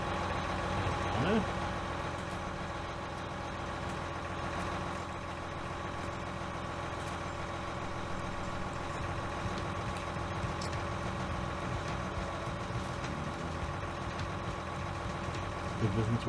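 A large farm tractor idles in a shed, a steady low diesel rumble with an even throb that holds for the whole stretch, while people talk in German over it.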